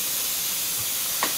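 A small model steam engine's boiler with a heating element vents steam through a valve, a steady loud hiss with a short sharper puff near the end, no talking.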